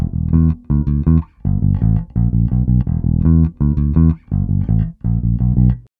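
A guitar plays the second bar of a funk riff, choppy groups of short picked notes ending in quick sixteenth-note runs, repeated several times, close-up and solo without speech.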